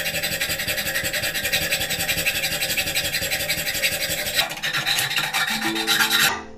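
Steady, continuous rasping of sandpaper on a wooden sword handle, close and loud, running unbroken before shifting slightly near the end.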